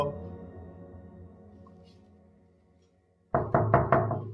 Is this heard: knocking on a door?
yes